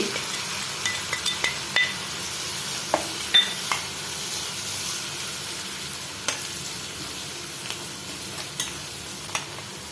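Onions are sautéed with green chilli, turmeric, curry leaves, chilli powder and chicken masala in a pan for a tomato egg roast, giving a steady soft sizzle with occasional light spoon clinks and stirring scrapes.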